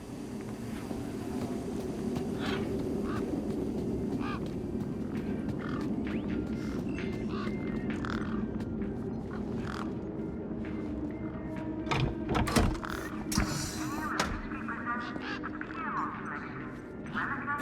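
Ducks quacking in the video game Beyond a Steel Sky, a busy run of honking calls over a steady low background hum that gets louder and more clustered toward the end.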